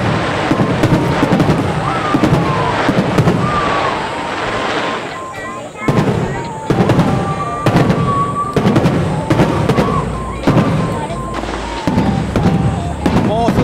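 Fireworks at a Japanese summer festival boom and crackle in a steady run of loud bursts, with people talking and exclaiming over them throughout.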